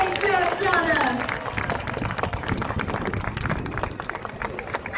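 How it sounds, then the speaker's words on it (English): An audience at a sea lion show in Nedugo Town, Bayelsa State, breaks into steady applause for the sea lion Xana after her hoop training routine. A brief vocal call opens the clip before the dense clapping fills the rest at a fairly loud level. "let's give her a huge round of applause"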